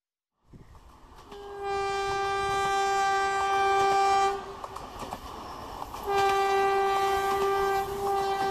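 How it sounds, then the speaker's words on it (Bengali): A train rumbles loudly along the rails while its horn sounds two long, sustained blasts, with a brief dip between them. "ট্রেনটা রাতের অন্ধকার ছিঁড়ে তীব্র গতিতে ছুটে চলেছে তার গন্তব্যের দিকে।"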